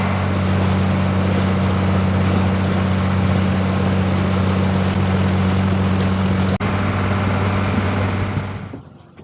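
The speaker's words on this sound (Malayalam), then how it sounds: "പമ്പാ നദിയിൽ കൂടെ ഇപ്പം ബോട്ട് പോയിക്കൊണ്ടിരിക്കുന്നത്" A motorboat cruising on the Pampa river in Kerala, its engine droning steadily with a strong low hum and broad water wash, loud and close throughout before tapering off at the end.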